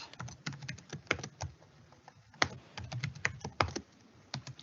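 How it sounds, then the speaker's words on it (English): Keys clatter on a computer keyboard as a terminal command is typed, a quick uneven run of close clicks with brief pauses, alone without voices. "So I will type this command."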